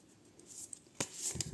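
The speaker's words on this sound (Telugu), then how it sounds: "So I will shuffle again." Tarot cards being reshuffled by hand, a soft riffling and shuffling that swells into a louder burst of papery friction near the end, close and quiet with no voices.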